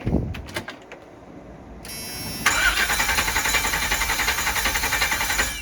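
A 1999 Chevy/GMC 5.7L engine cranks without catching: a few scattered knocks and a pause, then the starter motor whirs in a fast, steady rhythmic chug for several seconds, close and fairly loud, never firing.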